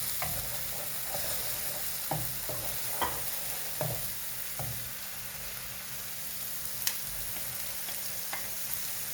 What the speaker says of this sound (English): I will give it a proper stir